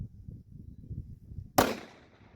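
A single sharp gunshot fired at a target on a shooting range cracks out loud and close, then decays quickly over a low, steady background rumble.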